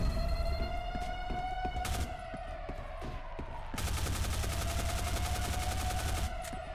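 Rapid automatic rifle fire in the FPS game Black Squad, loud sustained bursts with a brief pause near the two-second mark, set against a steady electronic tone, with no talking.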